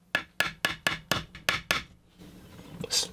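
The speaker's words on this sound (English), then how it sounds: "hammer it down." Hammer blows drive a connector down onto a Swagtron Swagger 5 (Xiaomi M365) scooter speed controller: seven sharp, evenly spaced strikes, close and loud, followed by a softer scraping rustle.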